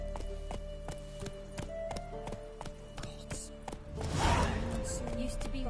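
Roach, a horse in the video game The Witcher 3, trots with steady, regular hoof clip-clops at a moderate distance, joined near the end by a louder burst of noise.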